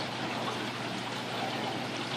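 A 3,000-gallon-per-hour return pump on a 220-gallon reef aquarium pushes water through the returns during a leak test, producing a constant rushing, splashing flow at steady volume with no talking.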